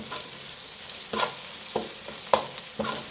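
Garlic sizzles in a hot pan with soft frying hiss, broken by several sharp scraping clinks as a utensil stirs it, close and fairly quiet, with no talking.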